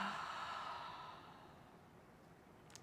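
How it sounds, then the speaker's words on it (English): A slow cleansing breath exhaled through the mouth during a yoga flow, a single soft, airy sigh that fades out gradually, close and quiet. "Exhale through the mouth."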